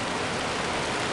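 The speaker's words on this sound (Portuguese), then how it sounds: "olha o tanto de granizo que tá caindo agora" Hail falls hard during a cold hailstorm in Rio Grande do Sul, Brazil, making a dense, steady, close hiss of ice pellets pattering on surfaces with no pauses and no voices.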